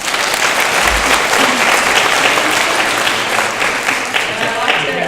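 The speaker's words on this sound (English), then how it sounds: "So can all of you give them a round of applause," An audience at an annual keynote event applauds with steady, loud, sustained clapping for about five seconds.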